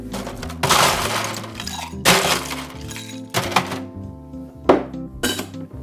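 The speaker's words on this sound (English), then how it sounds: "Add some ice to our cocktail." Ice goes into a cocktail shaker while a Monkey Gland cocktail is mixed: four separate bursts of clattering, clinking cubes, loud and close, with a hum beneath and no talk.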